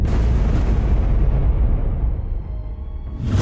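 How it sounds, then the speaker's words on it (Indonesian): A booming explosion effect for black magic sent by a shaman in a TV drama. It rolls out as a loud, sustained roar and fades over a few seconds, then a fresh burst rises at the end. "Ada ledakan apa tadi, Mian?"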